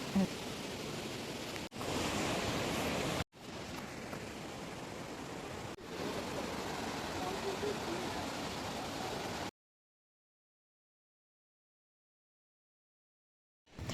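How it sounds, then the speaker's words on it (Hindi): A mountain stream waterfall rushes fast over big rocks beside the Kareri Lake trail near Dharamshala, Himachal Pradesh: a loud, dense, unbroken roar of water, cut abruptly several times before dropping into silence for the last few seconds. "ये हमारे साइड में एक झरना बह रहा है, तो ये उसके पानी की आवाज़ है।"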